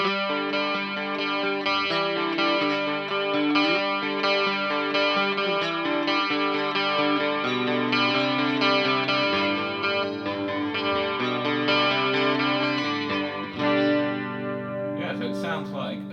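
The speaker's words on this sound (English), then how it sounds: "It sounds like a flanger trying to be a chorus, which is my favourite kind of flanger sound." Electric guitar through a Rocktek CHR-01 chorus pedal set to its slowest rate and full depth, sustained chords swirling with a deep, slow flanger-like sweep, steady and loud throughout with a brief pick scrape near the end.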